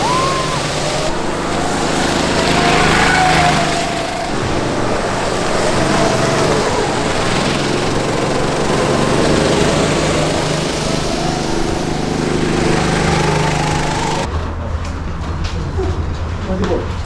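Go-kart engines race around a track, a steady, loud high-pitched buzz that swells and fades as karts pass, with people talking over it throughout.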